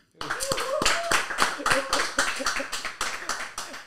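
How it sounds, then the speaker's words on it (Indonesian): A small group at an Indonesian event claps in a quick, uneven burst of applause lasting a few seconds, with voices mixed in. "Kita kasih tepuk tangan dulu nih untuk Sandy Fardiansyah."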